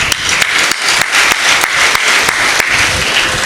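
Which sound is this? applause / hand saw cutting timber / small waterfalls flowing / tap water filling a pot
applause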